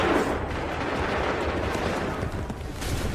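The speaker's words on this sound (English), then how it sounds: "Open fire!" A musket volley from the Assassin's Creed 3 game, with massed black-powder fire and booming reports forming a dense, loud wash of battlefield gunfire that holds for the whole stretch.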